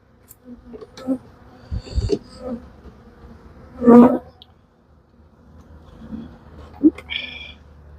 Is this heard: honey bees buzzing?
yes